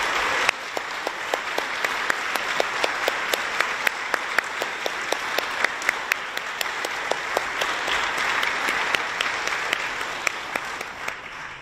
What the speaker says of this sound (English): Deb, can you please stand so we can give you a round of applause?